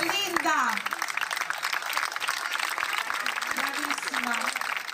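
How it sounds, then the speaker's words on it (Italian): Audience applauds Linda at a contest award moment, a dense steady clapping wash running the whole time beneath a voice speaking over it. "Ancora un grande applauso per Linda."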